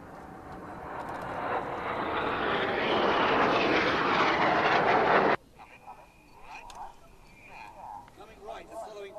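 Aerobatic jets fly in close formation and roll upside down, their roar building steadily to a loud peak before cutting off abruptly, leaving faint scattered background sounds.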